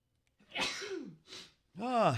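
A single sharp, close sneeze with a breathy intake, followed by a brief voiced exclamation or speech right after.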